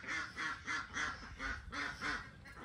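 Ducks quack in a rapid repeating series of nasal calls, about six bursts in under three seconds, fairly close and alone with no talking.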